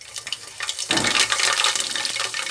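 A handful of rice grains puffs into muri in a hot pan, a sudden rush of crackling, popping hiss that swells and continues busily, close and loud.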